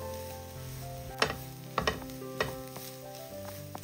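A spoon stirs grated coconut into a plantain stir-fry in a pan, giving several distinct scraping knocks against the pan over a soft sizzle, with music playing steadily in the background.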